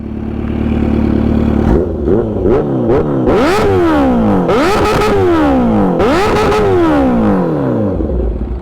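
Kawasaki H2 supercharged motorcycle engine revving hard, starting from a steady idle then several rising throttle blips that climb and fall away, very loud and close.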